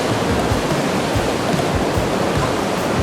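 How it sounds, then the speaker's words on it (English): An artificial waterfall on Cheonggyecheon stream in Seoul pours in a loud, constant roar of splashing water with no pauses and no voices. "This is artificial waterfall, but it's pretty."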